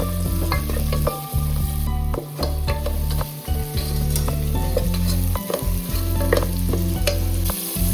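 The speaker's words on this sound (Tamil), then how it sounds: "பட்டாணி நல்லா கொஞ்சம் நேரம் எண்ணெயிலேயே வேகட்டும்." Fresh green peas fry in hot oil for a broccoli stir-fry, giving a loud, close, continuous sizzle broken by repeated scraping stirs of the pan.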